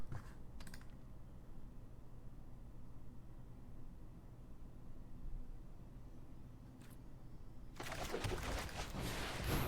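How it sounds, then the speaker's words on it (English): Steady, moderately quiet typing on a computer keyboard, with a continuous patter of key clicks under a faint background hum and a louder burst of activity near the end. "I'm going to type to you"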